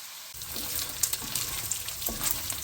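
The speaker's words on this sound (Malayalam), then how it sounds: "നമ്മൾ ബീഫ് ഒന്ന് ഫ്രൈ ചെയ്തെടുക്കുവാണേ." Beef frying in oil for beef pickle, a dense steady sizzle that starts abruptly and continues with small pops and crackles, close and fairly loud, no talking.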